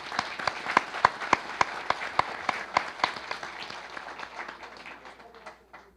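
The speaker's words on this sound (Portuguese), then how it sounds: "Acho que eles merecem uma salva de palmas, né?" Seminar attendees at a debate panel give a round of applause, a sparse group of claps with a few sharp, distinct hand claps standing out, steady at first and then thinning and fading toward the end.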